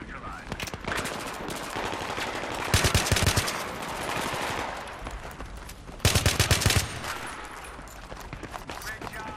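Rapid automatic fire from an AN-94 rifle with a flash suppressor in Battlefield 3: repeated sharp bursts with two loud, dense volleys standing out over continuous game noise.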